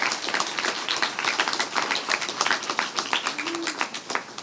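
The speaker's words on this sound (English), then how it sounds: "I really want you to also give a round of applause to the parents" A crowd applauding steadily at a school graduation ceremony, dense overlapping claps filling the whole stretch at moderate loudness, with a brief voice audible underneath.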